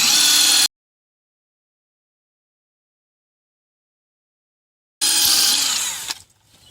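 A loud hammer drill whirs into brick in two bursts separated by a long silence, the second burst winding down at the end.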